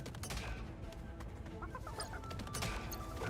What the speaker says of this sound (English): They make bone chicken noises.